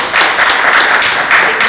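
Applause from attendees at a residents' association general body meeting: a dense, continuous wash of many hands clapping, fairly loud and steady for the whole stretch, with no clear talk above it.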